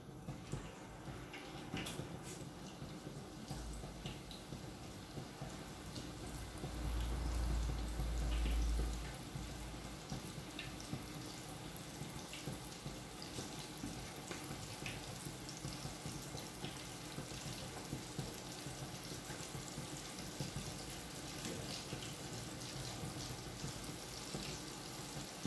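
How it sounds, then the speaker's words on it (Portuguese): Meatballs frying in hot oil give a steady, even sizzling hiss that runs throughout, with a short low rumble partway through. "Leva no óleo quente."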